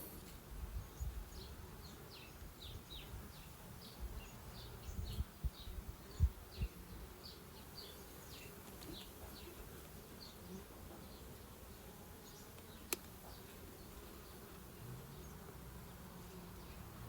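Honey bees on a frame lifted from a mini nucleus hive hum in a soft, continuous drone, with faint bumps and handling knocks now and then.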